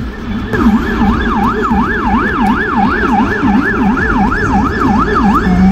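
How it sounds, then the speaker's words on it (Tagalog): An ambulance siren wails loudly and continuously on a street in Australia, a steady rising-and-falling electronic tone close by, with traffic rumble underneath and no voices. "Tinan mo yung tunog ng ambulansya dito."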